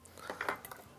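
A knife carving prime rib gives a few soft metallic clinks and scrapes against a plate or board, fairly quiet and close, with no speech.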